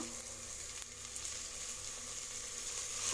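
Mint and coriander leaves sauté over a low flame, producing a quiet, even sizzle with one faint tap partway through and no voices.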